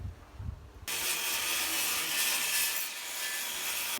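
A hand saw cuts through plywood edges during shed construction, a steady, loud rasping stroke that starts abruptly after a brief quiet moment and continues without pause, close by.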